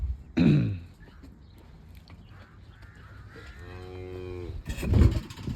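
Cattle low and moo on open pasture, with a loud bellow near the start and a long drawn-out moo toward the end, followed by another strong call; the bullocks are being driven to the hills.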